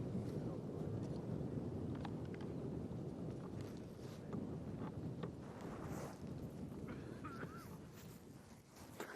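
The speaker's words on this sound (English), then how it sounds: "Cloud cover overhead, good strong wind." Strong wind buffets the microphone outdoors on a Sabi Sand safari drive at sunset, a loud continuous rumbling roar with gusty swells throughout.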